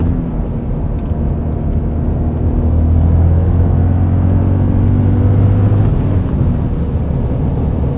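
A 2000 BMW M5 E39 engine pulls hard under acceleration while driving, a loud, steady rumbling drone that rises gently in pitch and holds continuously from inside the car, with no talking.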